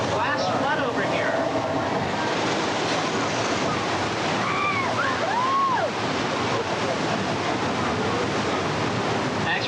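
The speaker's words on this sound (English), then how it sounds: "the flash flood is created by releasing thousands of gallons of recycled water from tanks up in the hill" A simulated flash flood on a studio backlot set, made by releasing thousands of gallons of recycled water from hillside tanks, gives a loud, continuous rushing roar. Faint whistle-like sounds pass over it and voices are heard.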